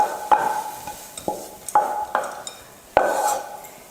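A spoon stirs fried onion into semolina (rava) in a pan, giving several sharp metallic clinks and scrapes at an uneven rhythm, close and moderately loud, with no talking.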